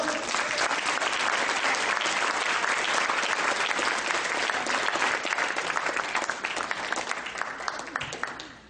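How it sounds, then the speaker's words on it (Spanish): A church congregation at a convention applauds, loud sustained clapping from many people close by that holds steady for several seconds before tapering off. "¿Cuántos aplauden al Señor?"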